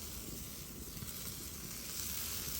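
Cheeseburgers of lean meat sizzle over a smoky campfire outdoors, a steady faint hissing crackle with no speech.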